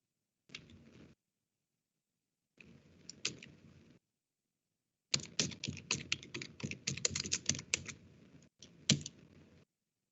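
Typing on a computer keyboard during a Linux routing lesson: clicky keystrokes in short bursts separated by silent pauses, with a longer dense run of rapid keys toward the end, close and clear.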